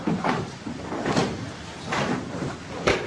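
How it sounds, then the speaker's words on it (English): A few soft thuds and knocks of a door or wooden panel being moved and shut, spaced apart indoors. "you shut the door, yes, Kieran?"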